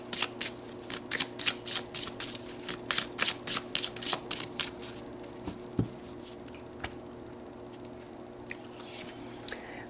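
Oracle cards shuffled by hand in a quiet room, a rapid run of crisp riffling bursts for about five seconds, then scattered softer flicks and slides as cards are pulled, with no talking.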